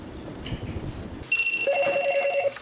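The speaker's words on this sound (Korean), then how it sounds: "전화벨 소리가 끊이지 않습니다." A telephone rings in a busy subway courier office, starting abruptly after a stretch of quiet room murmur with a steady electronic trill that warbles repeatedly for over a second, fairly close and clear.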